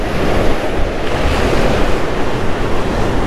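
Rough ocean waves break against a rocky jetty, a loud, steady roar of surf with heavy wind buffeting close to the microphone and no speech.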